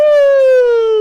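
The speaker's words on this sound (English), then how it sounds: "That's the sound of the ambulance coming to take me away." A loud wailing ambulance siren holds one tone that slowly slides lower, heard up close with nothing else around it.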